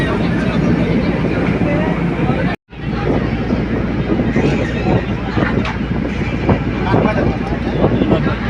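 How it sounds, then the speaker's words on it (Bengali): A ferry launch running on the river toward Howrah, a steady loud rumble of engine and wind buffeting the microphone, briefly cutting out and then resuming, while someone talks over it. "এবারে লঞ্চ চলছে যাবো এবারে হাওড়ার দিকে"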